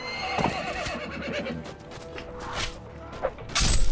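A horse whinnies loudly amid hoof clip-clops and thuds in the video game Mount and Blade, with a busy, slightly synthetic game-like mix and no talking.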